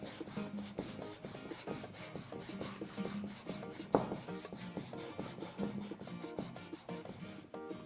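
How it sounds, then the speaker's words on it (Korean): Sandpaper rubs over a wooden speaker box in a steady series of rhythmic scraping strokes, close and moderately loud, with one sharper knock midway. "전체적으로 사포질을 할 겁니다."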